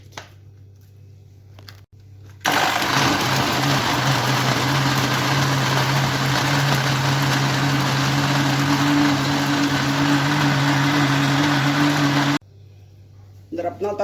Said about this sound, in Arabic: يلا بينا نضربه في الخلاط